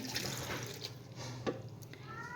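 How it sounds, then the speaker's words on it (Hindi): Water poured from a full glass into a grinder jar, a quiet continuous splashing pour running steadily with a brief louder slosh midway. "तो इसमें मैं भर के डालूँगी 1 गिलास पानी का"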